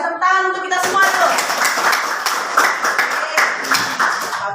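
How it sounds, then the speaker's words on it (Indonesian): A school class of children claps hands together in applause, a dense burst of close rapid claps lasting a few seconds, with voices mixed in at the start. "tepuk tangan untuk kita semua tuh"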